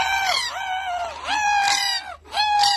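Pet cockatoo giving three loud, harsh, drawn-out squawking calls close by, with short pauses between them and no talking over them.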